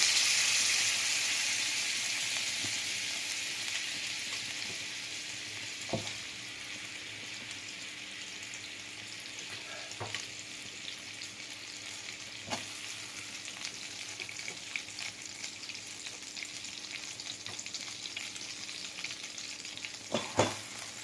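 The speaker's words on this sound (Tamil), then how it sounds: "அந்த மாதிரி வெண்ணெய் எடுத்ததை இப்போ நாம் நெய்யாக உருக்க போகிறோம்" Butter melting into ghee over low heat in a pan: gentle, steady sizzling, quiet and continuous, with occasional faint clicks and stirring scrapes.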